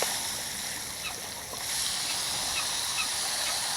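Ducks at a pond give quacking, honk-like calls over steady outdoor noise and some light splashing, moderately loud and close, with no clear speech.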